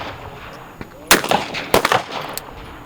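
Gunfire at an outdoor range at Cheney Lake near Wichita, Kansas: two or three sharp, loud shots spaced irregularly over steady outdoor background noise, with faint voices nearby.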